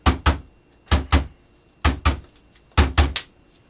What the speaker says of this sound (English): One of our devices recorded a certain seismic knocking.